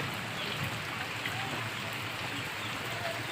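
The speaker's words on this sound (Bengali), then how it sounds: "প্রচণ্ড প্রচণ্ড বৃষ্টি হচ্ছে।" Heavy rain over a pond and field in a village, a soft, even hiss held at a distance and steady throughout.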